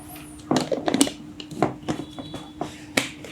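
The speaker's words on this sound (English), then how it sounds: "That was like 5 seconds of shaking." Chocolate coconut protein powder shaken with about 300 ml of water in a shaker bottle, heard as a short run of sharp rattling knocks, fairly close and clear, with no talking.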